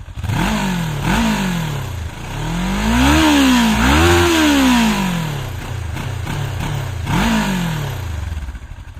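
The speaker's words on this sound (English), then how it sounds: "The motorcycle has a nice and deep sound when you're afar" A Kawasaki Versys 650 motorcycle with 65,000 km revs repeatedly, rising and falling in pitch with several sharp throttle blips, loud and close.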